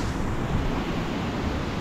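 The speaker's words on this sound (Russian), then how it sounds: "Посмотрите, какой водопад!" Steady, broadband roar of a waterfall at Sosnovka beach near Gelendzhik on the Black Sea coast, continuous and fairly loud with wind-like rushing and surf, no voices.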